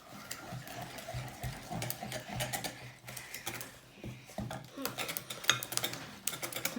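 Chocolate mi-cuit batter being mixed hard in a bowl, with a utensil clinking and scraping against the sides in quick, uneven bursts close by, while people talk lightly in French.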